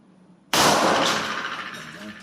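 A single sharp pistol shot, a 9mm CZ75 with a 4-inch barrel or an 11mm 1911 A1, fired right-handed at a large bottle target. It bursts out loudly after a short quiet lead-in, then a long echoing tail fades away.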